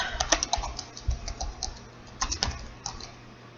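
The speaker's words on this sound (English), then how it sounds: "Let me just type this in here." Computer keyboard typing, a quick uneven run of close, crisp key clicks over a low background hum, no talking.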